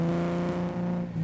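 A 2024 Honda Gold Wing motorcycle fitted with a Shark Road exhaust drones with a steady, loud, low engine note that holds an even pitch throughout the short burst.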